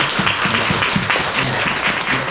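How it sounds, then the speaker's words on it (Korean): A church congregation claps together to welcome a newcomer during a Sunday worship service. The applause is dense and steady for the whole stretch, with a few voices faintly mixed in. "우리 다 같이 박수로"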